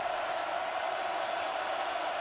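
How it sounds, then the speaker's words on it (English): A football stadium crowd roars in a steady, dense wash of noise at a Nebraska Cornhuskers versus Cincinnati Bearcats college game, continuous and loud with no distinct voices standing out. "listen to that crowd"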